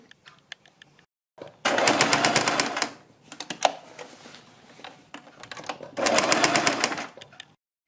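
A sewing machine stitches cords onto a blouse neck design in two loud rapid bursts of needle clatter, separated by a pause filled with scattered clicks and handling noise.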